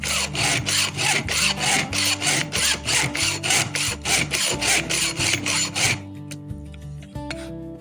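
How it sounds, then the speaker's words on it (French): A hand file sharpens a chainsaw chain tooth in about a dozen even, close rasping strokes with a steady rhythm, re-forming the tooth's cutting edge. The filing stops near the end and a quiet metallic tick follows. "je fais 2-3 passages avec la lime pour refaire la forme de la dent"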